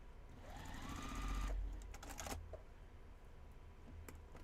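A sewing machine runs in a steady buzzing stitch for about two seconds, then stops, followed by a few quiet clicks and handling sounds as the thread breaks and the bobbin is changed; no one speaks.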